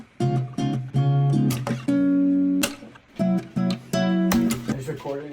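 An old nylon-string guitar recorded close on a single mic plays short plucked chords and ringing notes in brief phrases with small gaps between them.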